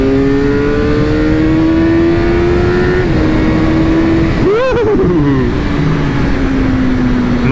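A 2001 Suzuki GSX-R600 K1 sport bike engine screams at high revs while riding, climbing steadily in pitch, then briefly dropping and rising again as it shifts, loud and close throughout with no talk.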